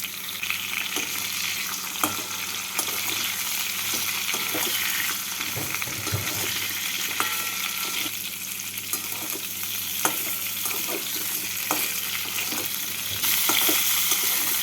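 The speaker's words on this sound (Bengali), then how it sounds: "ঝিঙে আর পটলগুলোকে দিয়ে দেব ঝিঙে পটলগুলোকে দিয়ে একটু নাড়াচাড়া করে নিচ্ছি" Potatoes, ridge gourd and pointed gourd frying in hot oil, a steady sizzle broken by scraping stirs of a spatula across the pan, close and continuous with no voices.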